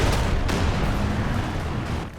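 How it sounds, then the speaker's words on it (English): A mortar shell blasts on impact in the World War II strategy game Company of Heroes 2, a loud, deep rumbling explosion with sharp crack-like bursts, trailing off as battle noise fades. "A mortar hit."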